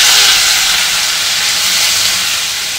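Cabbage and tomato hit hot oil with cumin, asafoetida and dried red chillies, giving a loud, dense, hissing sizzle. It starts strong and eases slightly, with no talking.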